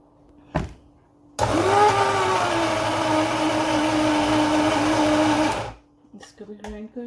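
A mixer grinder whirs loudly and steadily for about four seconds, grinding a chilli, garlic, lemon juice and salt chutney, with a faint knock before it starts and light clatter after it stops.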